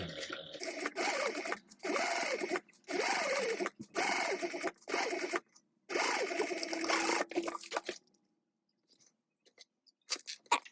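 A sewing machine stitches a vinyl tote bag in several bursts of steady, whirring motor and needle chatter separated by short pauses, then falls quiet with a few faint clicks at the end.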